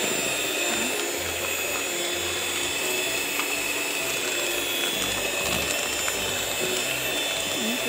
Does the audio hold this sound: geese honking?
no